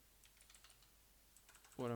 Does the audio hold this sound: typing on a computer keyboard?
yes